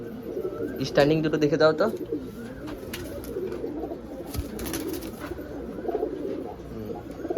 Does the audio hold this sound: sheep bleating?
no